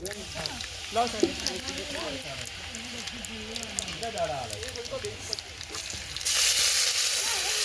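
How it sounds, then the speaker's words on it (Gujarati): Continuous crackling sizzle of chil bhaji (lamb's quarters greens) tempering in hot oil, with people talking over it; the hiss swells louder near the end. "ચીલની ભાજીનો વઘાર થઈ રહ્યો છે."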